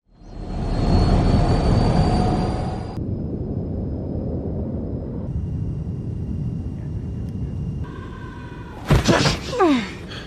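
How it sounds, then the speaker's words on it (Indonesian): A private jet taking off: a loud, roaring engine rush swells over the first few seconds, then settles into a steady lower drone. Near the end come a couple of sharp whooshing swells. "Menggunakan sebuah pesawat jet pribadi, mereka bertiga mulai lepas landas menuju tempat tujuan mereka."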